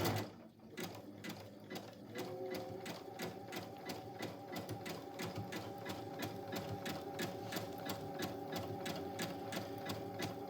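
A sewing machine stitches a wide 3-step zigzag to join quilt batting, a rapid, steady mechanical chatter of evenly spaced needle strokes running continuously, close and moderately quiet, alone without talk.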